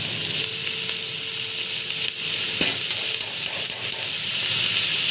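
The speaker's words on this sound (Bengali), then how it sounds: "দেখো বেগুনটা কিন্তু ভালোভাবে গলে গেছে, ভাজা ভাজাও হয়ে গেছে।" Soft, well-cooked eggplant frying in a pan gives a continuous hissing sizzle, even and fairly close, with faint stirring clicks and no speech.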